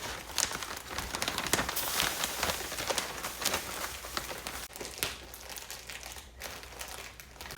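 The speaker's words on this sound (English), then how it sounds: "instead I'm gonna use a large 5-gallon Mylar bag" A large 5-gallon Mylar bag crinkles and rustles steadily as it is handled, a close, dense crackling that continues throughout.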